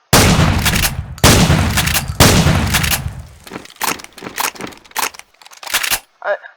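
Weapons fire in Garry's Mod, opening with three loud close bursts and then a scatter of quieter sharp shots and clicks at an uneven rhythm, with no one talking.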